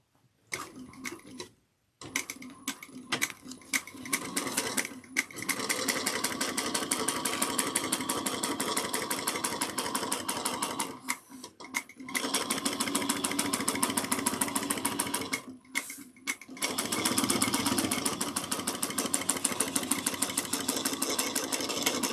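A sewing machine runs fast bursts stitching a 1/8 inch seam on a bag panel, a close rapid mechanical chatter broken by short pauses between runs, no talk over it.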